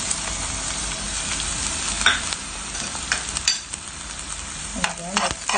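Bay leaves, onion and garlic frying in a pan for gizzard adobo, a steady close sizzle with scattered scraping stirs and clinks.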